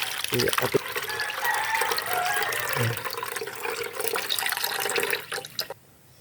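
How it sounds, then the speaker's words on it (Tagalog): First-pressed coconut milk poured and strained for making latik and coconut oil, a steady close trickle and splash of liquid with a few drips, fading out at the end. "ito yung unang ating kakanggatay o unang piga. Salain lang natin."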